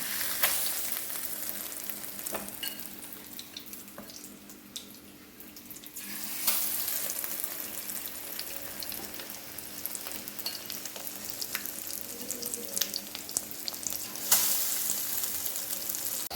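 Brinjal pieces dipped in egg batter frying in oil, a close, continuous sizzle with bursts as pieces drop in and scraping stirs, briefly quieter midway.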